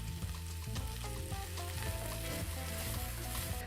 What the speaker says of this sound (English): And you just want to start sauteing them until they start to color